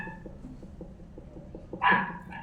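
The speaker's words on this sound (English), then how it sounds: "it's even got your dog barking now" A dog barks once, loud and fairly close, over a faint background of soft rhythmic tapping and low room noise.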